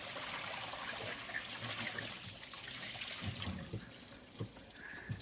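Water pours steadily into the bottom of a 1953 Lyman Islander boat hull with a splashing, hissing rush, close by and continuous, with no speech.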